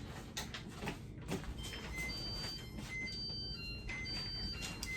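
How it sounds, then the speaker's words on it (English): A kitchen oven timer goes off while apple pie turnovers bake, sounding a run of short, evenly spaced electronic beeps over a steady background hum, with no talking. "And that is the timer."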